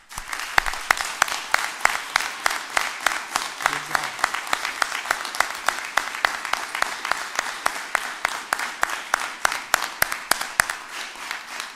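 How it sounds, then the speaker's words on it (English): Audience applauding graduating police cadets at a Police Athletic League graduation ceremony, a steady, fairly distant round of many hands clapping that runs the whole stretch at moderate loudness, with a few sharper claps standing out. "we are going to conclude by applauding you"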